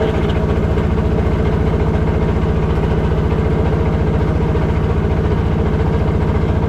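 A fishing boat's engine on the Meghna river chugs in a steady, fast rhythmic idle throughout, loud and close with no pauses.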